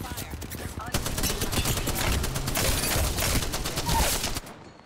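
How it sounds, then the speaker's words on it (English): Enemy gunfire in Apex Legends crackles as rapid repeated shots, a dense close fusillade running for several seconds before cutting off, with game sounds underneath. "They're shooting at me!"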